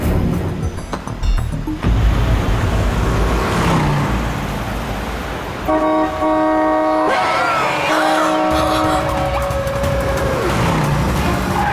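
A car driven fast during a chase in a night-time thriller scene, its engine roaring loud and close with road noise and a brief tonal whine partway through, sustained throughout.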